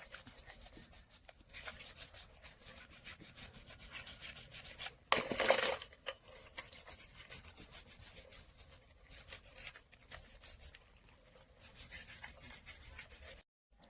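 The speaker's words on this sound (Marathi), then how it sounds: "चिंबोऱ्यानं चिखल पूर्णपणे ब्रशमध्ये घासून घ्यायचं" A brush scrubbing black mud off the shells of fresh egg-laden crabs from a fish market, quick repeated rasping strokes at close range with short pauses, no voices.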